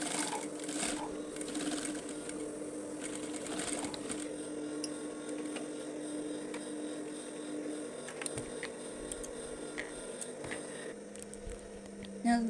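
A sewing machine runs continuously while stitching a patch pocket onto fabric, a steady close-up whirring hum that holds evenly throughout with a small knock at the very end.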